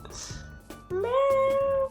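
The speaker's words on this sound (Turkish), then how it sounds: "Geldi kedi." Cat meowing in the Minecraft video game, with a short call and then a long, clear, loud meow up close, and faint voices beneath it.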